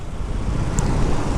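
Constant rumble and roar of heavy road traffic in Coimbatore, engines and tires blending into a dense, unbroken wash of noise.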